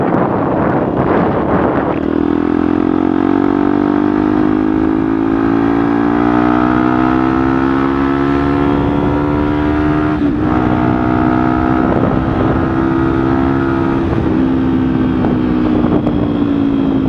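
A motorcycle fitted with an aftermarket exhaust rides along, its engine drone rising steadily in pitch under heavy wind rush, loud and continuous.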